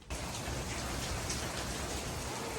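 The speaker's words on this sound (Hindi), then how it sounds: "अभी देखो बारिश हो रही है, इतना प्यारा इतना खूबसूरत मौसम हो गया है।" Steady rain pours down outside during a gusty storm, a dense, even patter that fills the clip from start to finish with no voices.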